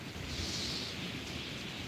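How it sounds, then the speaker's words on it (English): Strong wind roars on a rainy night in Georgia in a loud, steady rush of broadband noise, gusting slightly but never letting up. "that wind's just getting crazier and crazier"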